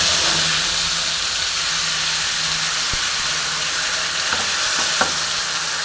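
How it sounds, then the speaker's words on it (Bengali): A paste of ginger, garlic, onion and green chilli frying in smoking-hot oil for bagun chicken, a loud continuous sizzle and hiss with a few faint utensil clicks, close by and without talk. "আমার তেলটা গরম হয়ে গেছে, দেখো ধোঁয়া বেরোচ্ছে। সেই জন্য আমি এবার এই পেস্টটা দিয়ে দিচ্ছি।"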